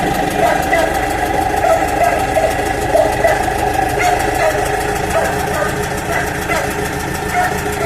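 A GAZ 3309 truck's engine drones steadily as it drives after a gearbox repair, with a continuous mid-pitched rumble heard from inside the cab and a voice talking over it.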